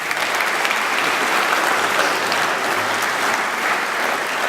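Conference audience applauding, a loud sustained wash of many hands clapping together in an indoor hall, steady from start to finish.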